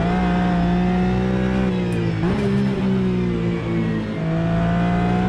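A race car engine in Automobilista 2 holds a loud, steady high-pitched drone, dipping briefly with a gear shift or lift before climbing again, with no talk over it.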